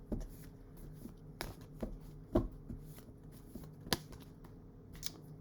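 Tarot cards shuffled for a quick three-card reading, giving soft close riffling with scattered sharper snaps and taps at an irregular rhythm in a quiet room.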